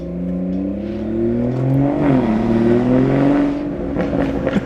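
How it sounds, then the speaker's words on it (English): BMW car with a B58 engine revving while parked, its intake rising and falling through several loud, close revs with sweeping engine tones and a few crackles toward the end. "I'm gonna get you guys some engine bay noises and some stationary revs and whatnot so you can hear it."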